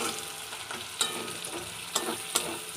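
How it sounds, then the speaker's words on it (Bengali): Onions frying in hot oil with garam masala and cardamom after the meat was browned, a steady broadband sizzle with a few sharp stirring scrapes near the mic; no one speaks. "তারপরে ওই তেলের মধ্যেই পেঁয়াজগুলোকে ভেজে নিচ্ছি"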